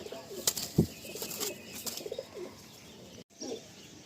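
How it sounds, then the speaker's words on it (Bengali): Young pigeon chicks in a group of baby pigeons for sale give brief chirps and soft coos, with a few wing flutters and short rustles at close range, fairly quiet overall. "পায়রা পুরো একদম ফ্রেশ পায়রা। এগুলো ছোট চিচি বাচ্চা।"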